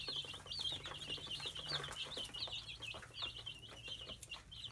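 A broody hen makes odd, continuous chirping and trilling calls near her chicks. The run of calls is steady and close, with soft rustling underneath and no talking.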